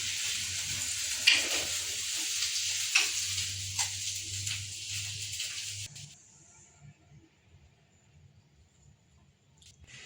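Tempering spices for sambar crackle and sizzle loudly in hot oil, with sharp pops over a steady hiss that drops off abruptly to a quiet tail.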